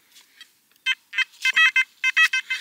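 Metal detector on a beach giving a series of short electronic beeps, starting faint and growing into several loud, closely spaced tones in an irregular rhythm, heard alone with no talk.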